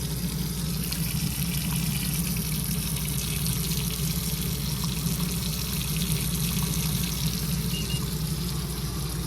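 Hot water runs steadily from a tap in a 2025 Forest River R-POD 171 travel trailer, a constant, even rush with a low hum underneath, no voices.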